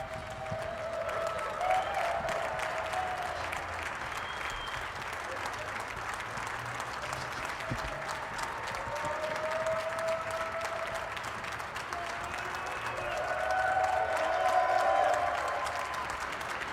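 An audience applauds Donald Trump as he waits to ring the bell, steady, sustained clapping from a large crowd that swells again toward the end, with some voices mixed in.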